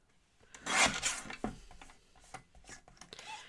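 A piece of paper card is trimmed for a handmade Halloween card, with soft rasping and rubbing cuts close by, quiet and irregular.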